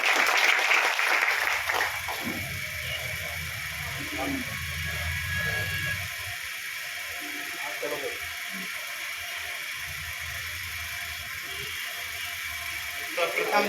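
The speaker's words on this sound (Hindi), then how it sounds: "जोरदार तालियां दीजिए।" An audience at a gathering in India celebrating the Prime Minister's birthday gives a round of applause, a quieter, somewhat distant wash of clapping that fades and thins out over several seconds.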